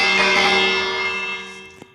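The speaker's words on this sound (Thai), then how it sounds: "นี่กระดิ่งก็เป็น" A village bell in the Minecraft video game rings once, a bright metallic clang with a long ringing decay.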